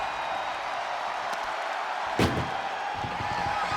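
In the WWE 2K24 video game, an ambulance door slams once with a sharp, loud thud over a steady crowd murmur during an ambulance match.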